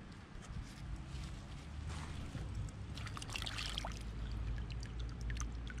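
An old glass bottle is rinsed off in river water, with gentle sloshing, pouring and trickling close by at a quiet, steady level and no talking.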